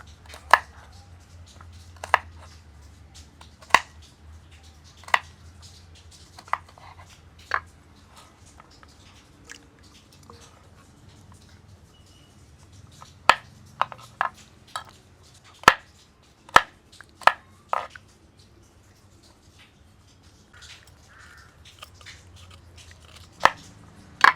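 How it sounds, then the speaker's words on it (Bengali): A knife chops bottle gourd peel into small pieces on a board, producing close, sharp taps that come singly at first and then in quicker clusters, with no talking. "আমি লাউড ছোলা কটা এইভাবে একটু ছোট ছোট করে কেটে নেবো"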